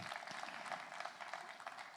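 Audience applause for start-up finalists at a pitch competition: faint, steady clapping runs through the whole short stretch, distant and even with no distinct individual claps.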